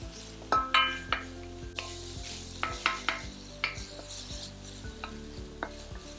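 Garlic and onion sizzle in a hot pan while being stirred for browning, with a steady crackle broken by repeated sharp scrapes and clacks of the utensil against the pan, and no voices.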